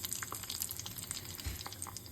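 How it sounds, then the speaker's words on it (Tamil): Mozzarella sticks fry in sunflower oil with a faint, steady crackle and scattered small pops and sizzles, heard quietly and alone. "நார்மல் நம்ம சன்ஃப்ளவர் ஆயிலில் தான் பொரிக்கிறேன்"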